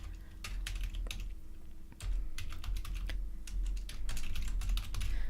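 Someone types a note on a computer keyboard while playing The Sims 2. The key clicks are quick and irregular, fairly close, and come in bursts over a low background hum.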